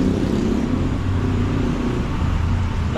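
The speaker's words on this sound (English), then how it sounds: "Look at that traffic, bro." Steady street traffic in Envigado at rush hour, a dense continuous rumble of car and motorcycle engines that stays loud and even with no single vehicle standing out.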